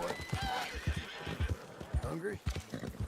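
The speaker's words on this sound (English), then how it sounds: "Alright, let's feed this horse." A horse in the Red Dead Redemption 2 video game whinnies in short bursts while its hooves thud in a steady clip-clop, up close and fairly quiet.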